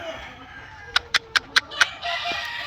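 Hens and a rooster on a farm, a flock of hens still nervous around a newly introduced rooster, give a run of five sharp clucking calls in steady rhythm, followed by softer continuous clucking and murmuring nearby.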